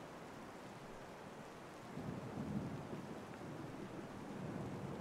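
Steady rain falls through a thunderstorm, a low thunder rumble swelling after about two seconds and holding, the whole scene soft and at a moderate distance with no voices.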